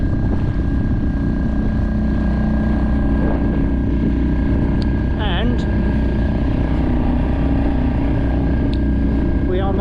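Steady engine drone of a sailing boat motoring under power off Scotland, a continuous low rumble throughout with wind noise on the microphone and brief voices.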